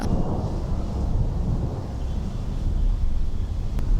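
Deep, sustained rumbling of thunder rolls on continuously, loud and broad, with a faint hiss of wind or rain over it and no voices.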